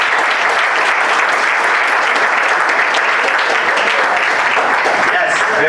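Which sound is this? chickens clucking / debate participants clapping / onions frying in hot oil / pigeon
debate participants clapping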